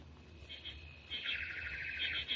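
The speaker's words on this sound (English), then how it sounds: "That one bird. He always sings on the apple tree." A single bird singing in an apple tree on a quiet evening, a radio drama sound effect with faint, repeated chirping phrases that grow brighter and more continuous toward the end.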